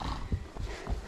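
A ridden horse walks on a forest outing, its hooves thudding in a loose, uneven clip-clop rhythm close by over a rustling background, with no one speaking.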